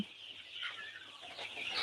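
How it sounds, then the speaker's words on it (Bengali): Egyptian Fayoumi chickens on a farm, clucking and calling softly at a distance under a steady hum, with a fuller burst of calls near the end. "আপনারা দেখতে পেলেন আমাদের মিশরীয় ফার্মি মুরগি"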